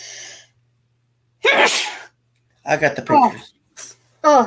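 A loud, close sneeze bursts out once around the middle, with a person talking briefly before and after it.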